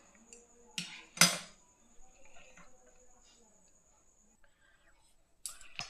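A nonstick kadai is set down on the stove with two sharp metallic clanks close together, followed by quieter kitchen rustling and another knock near the end.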